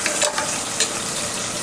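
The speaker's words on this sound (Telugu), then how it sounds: "ఉల్లిపాయలు కాస్త వేగాలి." Onions frying in a pan for Guntur-style kichidi: a steady, close, dense sizzle with a few brief stirring scrapes, and no talking.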